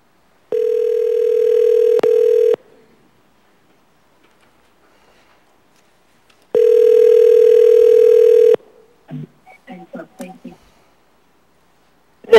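Steady telephone dial tone during a call placed into an assembly meeting, two long identical bursts of about two seconds separated by silence, loud and close, followed by a few brief clicks and a short voice fragment.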